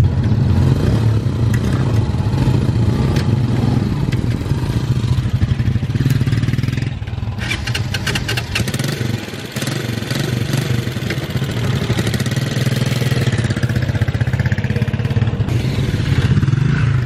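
A motorcycle engine runs close by, a loud, steady low rumble with clattery mechanical texture and slight changes in revs throughout, with no talking.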